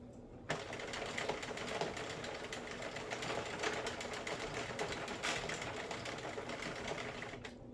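A Sentro knitting machine is cranked while knitting a neck warmer, producing a steady rapid plastic clatter and whirring that starts abruptly and runs continuously at an even pace, close by and without talking.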